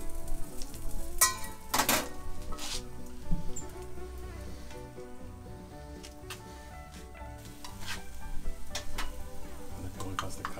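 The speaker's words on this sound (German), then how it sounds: "Paste wie ein Tomatenmark schön auf den heißen Boden anrösten lassen" Curry paste roasting on the hot base of a Dutch oven on a Napoleon Rouge 525 SE grill, with a steady close sizzle, a few sharp scrapes and clatters of a utensil early on, and then a softer even hiss.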